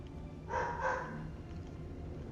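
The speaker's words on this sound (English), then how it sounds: "One of my dogs is barking." A pet dog barks twice in quick succession somewhere in the house, the two short, fairly muffled barks rising above a steady low hum of computer and game background noise, with no talking.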